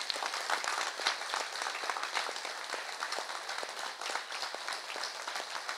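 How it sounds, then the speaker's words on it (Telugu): Audience at a book launch event in Karamchedu giving sustained applause, a dense, moderately faint patter of many hands clapping steadily throughout with no pauses. "ఆపకుండా వాళ్ళకి ఒక్క నిమిషం చప్పట్లు కొట్టగలరని ఆశిస్తాను"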